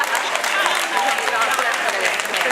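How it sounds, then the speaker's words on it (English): An audience at a discussion with a state education superintendent breaks into dense, sustained applause, a continuous roar of clapping with crowd voices underneath. "Y'all clap for that."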